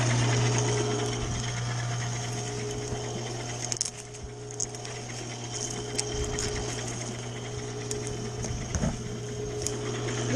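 A SuperHandy wood chipper runs steadily nearby, giving a continuous droning mechanical hum with a low tonal whine and small rattling fluctuations throughout, with no talking.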